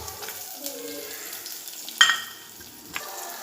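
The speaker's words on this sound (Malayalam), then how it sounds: "ഉള്ളിയും കൂടി ഇട്ടുകൊടുത്തൊന്ന് വഴറ്റിയെടുക്കണം കേട്ടോ" Coconut pieces, shallots and green chillies sautéing in a pan for a jackfruit seed curry, with a steady close sizzle and a few louder stirring clinks and scrapes.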